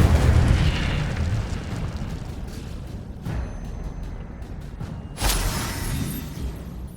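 Incendio fire spells cast in a Harry Potter video game, set in a library's Forbidden Section during a night raid: loud whooshing blasts, a big burst at the start, another near three seconds and a sharp flare past five, over a rumbling background.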